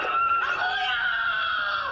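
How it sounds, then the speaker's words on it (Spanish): A child screams in filmed footage from the Syrian uprising, a sustained high, strained cry that carries on steadily and loudly for the whole two seconds with no pauses. "Un niño grita, "Mi hermano,"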